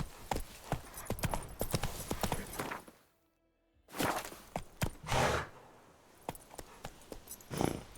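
Roach the horse gallops in The Witcher 3, hooves clip-clopping in a steady, close rhythm that drops out briefly into near silence, then resumes with snorting breaths and a loud hoofbeat at the end.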